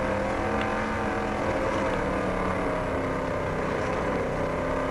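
Race car engine in the Dirt Track Racing 2 video game roars steadily at high RPM, a loud continuous drone with no pauses and no talk.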